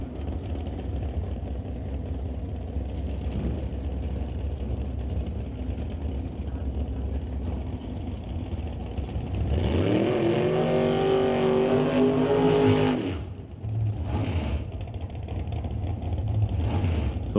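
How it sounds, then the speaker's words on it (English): Old-time drag race car at Mission Raceway Park doing a long burnout across the starting line, a loud sustained roar with rising engine tone for a few seconds, then dropping back to a rumbling idle, with an announcer talking. "He's going to do a nice long burnout across the starting line."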